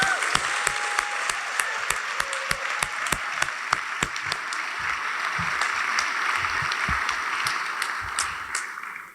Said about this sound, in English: Please join me in a big round of applause for all of our GPS Ed partners